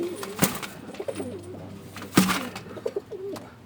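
Racing pigeons coo in a loft during a pigeon derby, soft repeated throaty calls rising and falling close by, broken by a couple of sharp wing flaps or knocks, with no talking.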